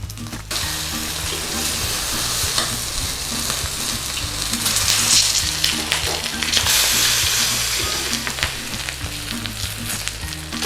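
Lamb shanks browning in hot oil in a pan, a loud, continuous sizzle and crackle of frying with occasional stirring and scraping, near and steady throughout.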